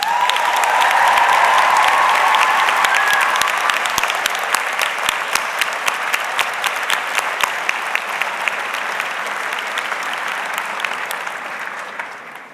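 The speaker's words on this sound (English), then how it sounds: "I would pause to lead one more round of applause for all of us" A large crowd applauds steadily for several seconds at a nursing school commencement, dense clapping that stays full and loud before tapering slightly at the end.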